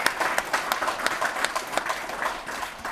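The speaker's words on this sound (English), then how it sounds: "Let's give him a round of applause," An audience at a community celebration gives a steady round of clapping, dense overlapping hand claps at moderate distance with a few voices underneath.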